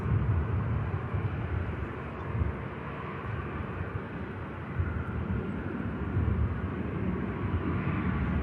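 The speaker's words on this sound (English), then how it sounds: "See the Ryanair lining up for Brussels at the back of shot there." A Ryanair airliner lines up for departure at Manchester Airport, heard as a steady, distant low jet-engine rumble that holds evenly throughout with no voices.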